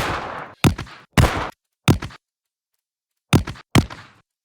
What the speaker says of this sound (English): so we need an explosion, of course